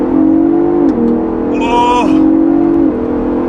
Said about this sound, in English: I'm gonna go ahead and floor it again